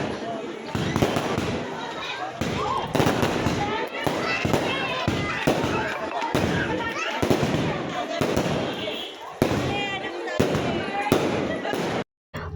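Firecrackers burst repeatedly during an Indian wedding's baraat celebration, with rapid loud cracks and thumps crowding together over a lively crowd of talking and shouting guests, including children.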